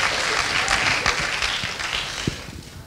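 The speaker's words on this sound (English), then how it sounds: "Round of applause." Crowd applause at the opening ceremony of a school music festival in December 2018, a dense wash of clapping that holds steady and then fades out over about three seconds.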